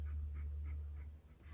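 A dog pants or whimpers softly in a rhythmic series of about five short, evenly spaced breaths. A steady low background hum runs underneath, and there is no talking.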